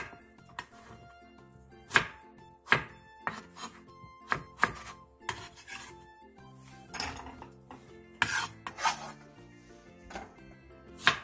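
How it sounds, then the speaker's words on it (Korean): A knife chopping peeled radish into chunks on a cutting board, sharp close thunks in an uneven rhythm, some spaced apart and others in quick bursts. "칼로 껍질을 깎아낸 뒤 무의 크기에 따라 4등분에서 9등분으로 잘라주세요"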